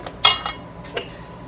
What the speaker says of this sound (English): we want to mix those up pretty good